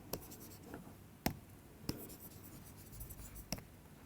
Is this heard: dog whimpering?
no